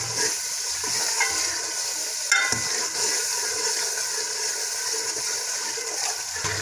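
Peas stir and fry in a pan with mashed tomato for a matar chawal dish, a steady sizzle with faint scraping and one brief clink, no voices.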